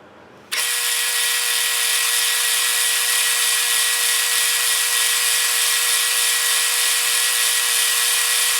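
A power drill with an asymmetrically ground bit starts abruptly and runs in a steady, loud, high-pitched whine as it bores into metal, continuing without pause and with no talking.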